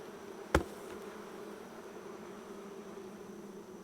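Honey bees buzz around an open beehive as it is being closed up, a steady droning hum throughout with one sharp knock near the start.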